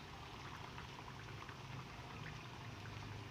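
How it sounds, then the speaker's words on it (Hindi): Chicken spring wontons deep-frying in oil, a faint, steady bubbling hiss with dense crackles that continues unchanged throughout, with no talking. "ये यहाँ से भी अच्छी तरह से फ्राई हो जाए।"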